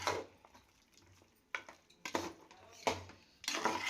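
Mutton sambar masala is stirred in a cooking pot with a spoon, giving intermittent scraping and clinking strokes at uneven intervals over a faint, quiet background.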